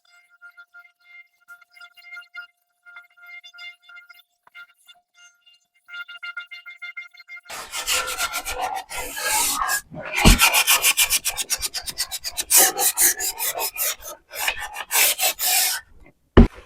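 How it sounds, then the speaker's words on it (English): Sandpaper rasps steadily over painted thrifted wooden furniture in close, loud strokes, after a quieter stretch of faint scattered tones at the start. "So we're going to sand it, see what it does."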